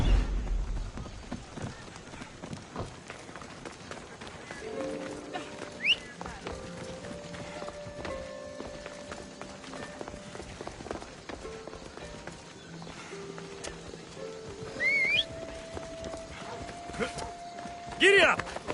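Horse hooves clip-clop at a run in Assassin's Creed Odyssey, a steady galloping rhythm under game music and occasional talk.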